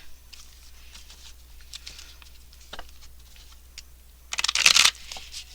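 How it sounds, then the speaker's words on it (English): Tarot cards being shuffled by hand, a soft, irregular papery patter that builds to a louder riffling burst near the end, close by in an otherwise quiet room. "These cards are hard to shuffle, but we can attempt to do so."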